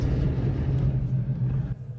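Cold winter wind on a dark night buffets a small kei truck camper with its skylight cracked open, making a steady low rumbling roar that eases slightly near the end.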